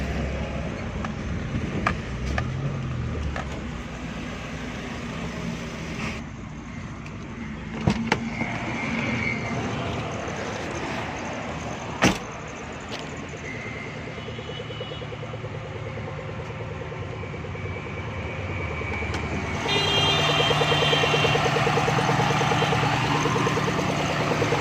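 A car running without a fuel pump, its engine humming steadily at a workshop after a short drive, with a rise in noise near the end and a few clicks.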